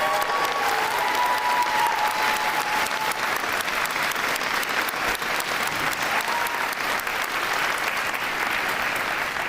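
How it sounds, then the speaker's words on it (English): A school crowd at an 8th grade recognition ceremony claps in sustained, dense applause that stays steady and loud throughout, with no speech over it. "Let's give one more round of applause to these guys."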